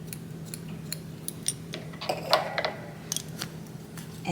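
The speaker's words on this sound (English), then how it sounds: "cut your yarn" Scissors snipping crochet yarn close up, a few crisp metallic clicks and snips over a low steady background hum.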